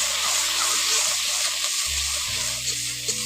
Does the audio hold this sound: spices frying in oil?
yes